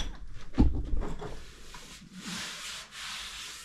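A hand rubs 80 grit sandpaper over a car body surface being readied for primer in a garage, giving a close, gritty scraping that comes in a few strokes and then settles into a steadier, softer rasp.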